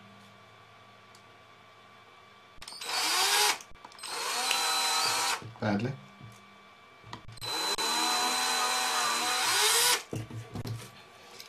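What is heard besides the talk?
electric drill drilling a hole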